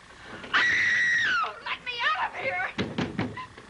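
A woman screams loudly and at length, pleading to be let out of a locked room in a 1937 film, then her frantic cries and sobbing voice continue in shorter bursts with knocking or thuds.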